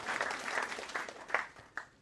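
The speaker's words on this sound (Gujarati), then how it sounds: "આપણે ખૂબ તાળીઓ સાથે દલપત પઢિયાર સાહેબને અભિનંદન પાઠવીએ" An audience at a Gujarati literary festival poetry gathering claps for poet Dalpat Padhiyar, a dense patter of hand claps that swells and then thins out, with a few louder individual claps near the end.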